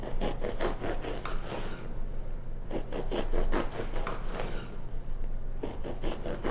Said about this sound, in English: we're going to take this loaf and we're going to cut it into 16 slices. And it's best if you use a serrated knife.